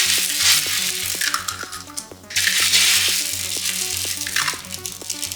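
Eggs sizzle loudly on a hot Ninja Sizzle GR101 griddle, a bright crackling hiss that swells and dips, with faint scrapes and taps of a utensil ticking through it.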